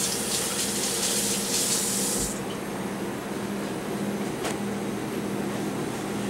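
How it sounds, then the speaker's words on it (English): Water running hard from a kitchen tap as hands are rinsed, a steady close hiss of spray that drops after about two seconds to a quieter flow, with no talking. "I'm going to step over and rinse my hands real quick."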